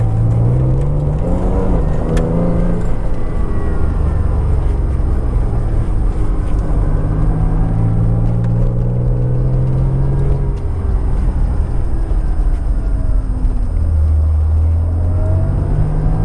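A modified Honda NSX drives a winding road with a loud, close engine drone rising and falling as it shifts through gears, with a steady road rumble underneath.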